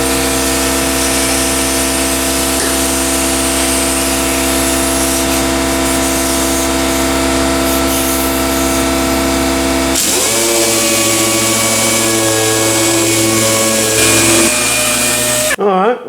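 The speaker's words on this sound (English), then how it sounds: "the first thing we're going to do is do some sanding and get them spots ready for some primer." A dual-action sander with 220-grit paper runs steadily against a 1995 convertible's car hood, a loud continuous whirring drone that shifts in pitch partway through as pressure changes, then cuts off at the end.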